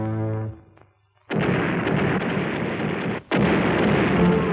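Cartoon cannon bombardment from a ship firing at aliens: two long, loud, continuous blasts of booming fire following a shouted voice, with a brief gap between them.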